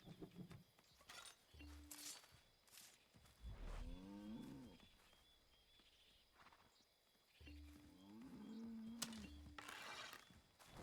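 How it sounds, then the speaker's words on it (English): A cow in the video game Assassin's Creed 3 gives two low, drawn-out moos several seconds apart, close and clear, alongside soft creaking mechanical sounds. "Yes, cow. I hear you."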